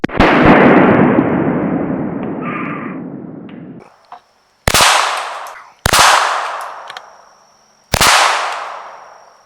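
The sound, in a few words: 22 rifle rounds hitting Tannerite target, explosion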